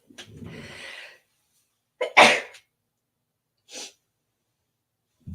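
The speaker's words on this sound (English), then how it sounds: "And I'm going to sneeze." A sharp inhale builds into one loud, close sneeze, followed by a short breath in an otherwise quiet room.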